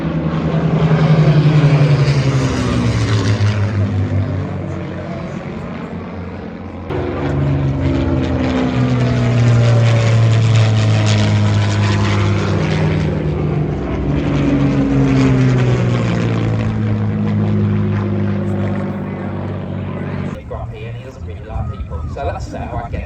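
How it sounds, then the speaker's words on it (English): Two Spitfire propeller fighter planes fly over farmland, their piston engines producing a loud, throbbing drone that rises and falls in pitch as each passes overhead, then fades away. "Got 2 Spitfires coming over."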